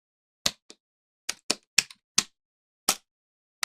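Keys clack on a computer keyboard as a PowerShell command is typed, about nine sharp, separate strokes in an irregular rhythm with near-silent gaps between them, close and clear with no talk.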